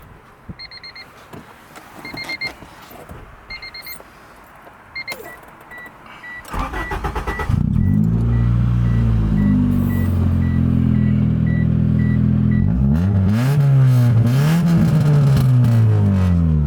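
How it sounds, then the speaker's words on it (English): A CRX Si car's newly replaced engine turns over and catches, then settles into a steady, loud running hum, after several seconds of quiet with faint repeated electronic beeps. "see here is very quiet engine"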